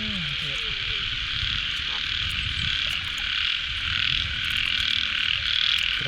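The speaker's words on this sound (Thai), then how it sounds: "เดือน 6ฝนตกใหม่กบเขียดออก มาชมบรรยากาศหาคู่บ่าวสาว" A dense chorus of frogs croaking after fresh rain in the mating season, continuous overlapping calls near and far, with a steady insect-like trill above and faint voices underneath.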